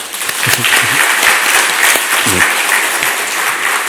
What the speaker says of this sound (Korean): 우리 남전도의 회원들을 위해서 한번 격려하며 우리 박수했으면 좋겠습니다